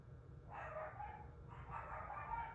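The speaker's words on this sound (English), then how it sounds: "Sorry for the dogs." Dogs bark in two muffled bursts, distant and faint over a low background hum, the second bout longer than the first.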